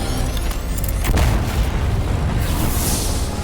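Unguided missiles striking targets in Dune: Awakening, heard as a deep booming explosion followed by a rumbling, hissing tail of debris and fire.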